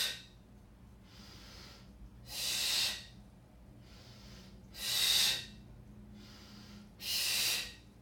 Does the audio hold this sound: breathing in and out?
yes